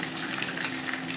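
Fish pieces sizzle steadily in hot oil in a pan while being lightly fried for a Bengali banana-leaf paturi, a dense continuous crackle with no voices.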